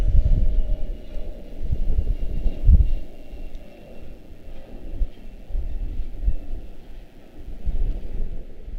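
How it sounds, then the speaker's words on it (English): A Breeze Airways Airbus A220-300 airliner at Washington Dulles gives off a low, distant rumble mixed with gusty wind buffeting the microphone, a steady muffled roar with no talking. "Next up is going to be A220 300 it's Breeze out of Provo."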